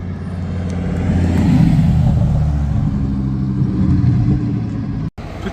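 Lamborghini Huracan Performante passing on a city street, a loud, building engine roar that swells and holds, then fades as it drives by, with no talk.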